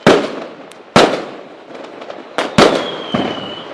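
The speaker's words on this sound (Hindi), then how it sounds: "हर जगह पटाखे फूट रहे थे।" Sharp cartoon firecracker bangs burst one after another at a jungle fair, at uneven intervals, loud and close, each trailing off with crackle, one followed by a whistling tone.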